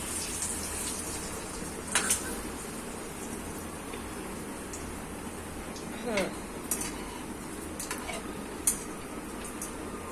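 An egg-stuffed potato vada fries in a small kadhai with a steady, hissing sizzle, broken by a few sharp utensil clinks and taps as it is turned over.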